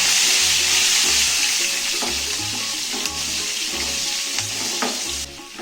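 Small onions (shallots) sizzle and fry in hot oil in a pan for egg curry, a continuous crackling hiss with occasional scraping stirs, close and steady.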